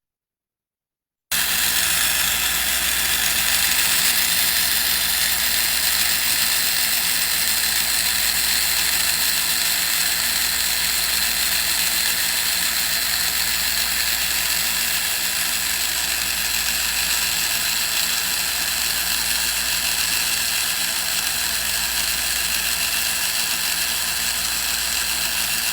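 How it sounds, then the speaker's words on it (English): A Merlin handheld grinder fitted with a disc carrying carbide cutters on both sides carves wood, giving a loud, continuous whirring rasp that holds steady for about twenty-four seconds after a silent start. "The disc has cutters on both sides, carbide on both sides, and I'm going to come up as close to the line as I can."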